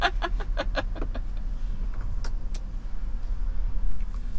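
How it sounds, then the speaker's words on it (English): An old truck idles or rolls past outdoors with a low, steady engine rumble, broken early on by a run of sharp rhythmic rattling clicks and later by a couple of isolated knocks. "That's Allie's old truck"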